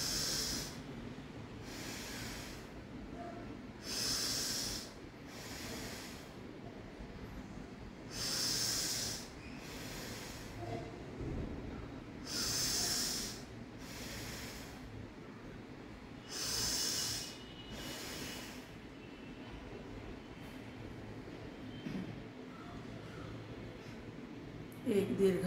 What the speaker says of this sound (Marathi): डावी नाकपुडी बंद करायची आहे आणि उजवीनं 5 वेळा दीर्घ श्वास